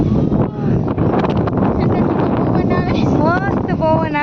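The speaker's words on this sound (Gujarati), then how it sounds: "મસ્ત પવન આવે છે." Steady wind gusts buffet the microphone outdoors at the riverside palace in Gondal, Rajkot, producing a constant low roar while a person talks over it.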